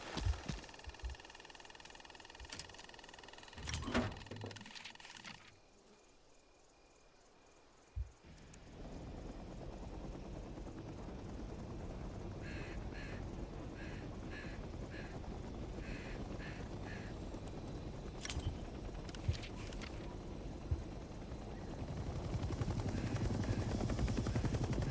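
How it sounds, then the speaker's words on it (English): A military helicopter engine spins up in the Vietnam War shooter Hell Let Loose Vietnam, starting with clicks and switch sounds before a steady turbine whine and rotor roar build in and hold loud and continuous. "Let's start by getting in the pilot seat and turning the engine on."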